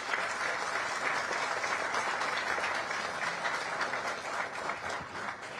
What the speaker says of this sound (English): You can give a clap for that.